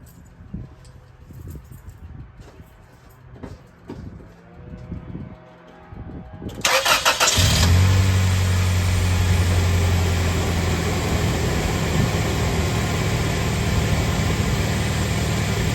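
First-generation Toyota Tacoma with a 2.7L engine cranking briefly, then catching and settling into a loud, steady idle, heard up close.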